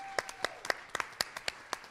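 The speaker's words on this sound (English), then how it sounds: "Can I have a big cheer for the students that came out tonight?" A live audience at a show about writing and country music claps for the students. The claps come as a thin, irregular patter of individual hand claps, with no loud cheering.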